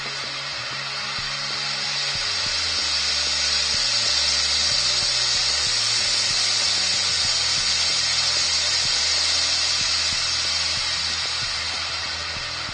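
An airbrush hisses steadily close by, spraying onto a sycamore platter as it spins on a woodturning lathe, with the low hum of the lathe motor running underneath the whole time and no talk.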